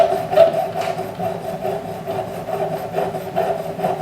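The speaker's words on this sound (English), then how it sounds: "Sawing that, making that mark, sort of really scoring it more than anything else." A saw rasps back and forth against sterling silver in quick, even strokes, scoring a mark; a close scraping rhythm with no voices.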